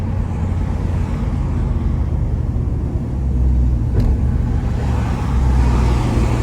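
1966 Ford Mustang GT350 tribute under way and accelerating, a low steady engine rumble with road noise that swells slightly toward the end.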